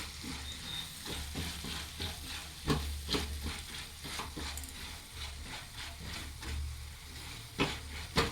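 Food sizzling in a hot pan is mixed with a utensil, giving a continuous frying hiss under a run of quick scraping strokes and occasional louder knocks, close-up with no one talking.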